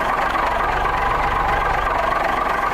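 An old Autosan bus diesel engine idles steadily and close by, a rough low rumble with a faint knocking rhythm and no other sounds.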